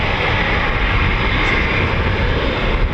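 Eurofighter Typhoon FGR4 jet at RAF Coningsby, a steady broad roar holding at a constant level throughout, loud and continuous with no voices.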